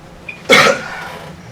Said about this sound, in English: sorry for coughing on that.